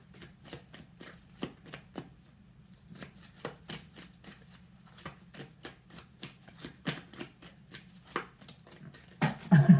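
Tarot cards are shuffled and drawn by hand: a close, quiet run of rapid papery riffles and soft flicks, building to a denser flurry at the end, with no talking.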